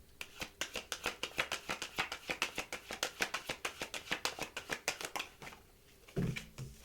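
Tarot cards riffle and flick in a rapid, close run of crisp paper snaps, steady and dense for about five seconds, then stop with a soft low thump as the deck settles.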